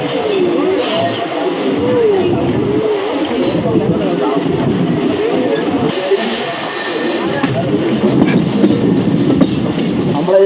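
A crowded local passenger train runs on rails toward Digha, giving a steady loud rumble with rhythmic clickety-clack of the wheels throughout, while a person talks over the noise.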